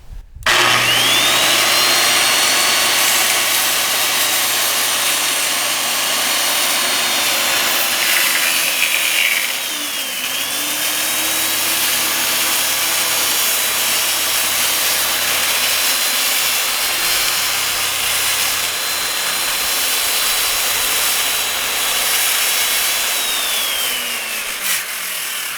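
A power saw rips through a wooden board for a 32 by 32 inch square, a loud, close, sustained whine with the motor pitch dipping under load midway before winding down at the end.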